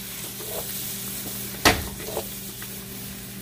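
Cauliflower fried rice sizzles quietly in a pan while it is stirred. One sharp scrape or clatter of a utensil against the pan stands out midway, with softer scrapes around it and no voices.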